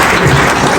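An audience breaks into loud, dense applause for the chief guest at an award event, a close burst of clapping that fills the whole short moment.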